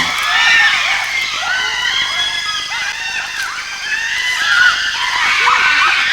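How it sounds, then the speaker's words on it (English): Wild primates scream shrilly in a frantic scrum over fresh meat, many overlapping high cries rising and falling continuously at close range. "A wild, screaming scrum, hungry for meat."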